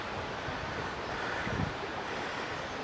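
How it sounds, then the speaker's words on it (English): Wind blows steadily outdoors in Scotland, a continuous broadband rush buffeting the microphone with a slight gust midway, loud and close with no voices. "It is windy here today."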